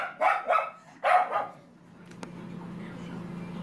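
Dogs bark in two quick pairs of sharp, close woofs, followed by a sudden knock and then a steady low background hum with no more barking.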